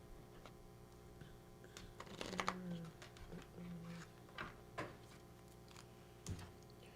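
Tarot or playing cards being shuffled by hand during a casual reading, giving soft irregular riffling and tapping bursts, fairly close and quiet, with no talking over them.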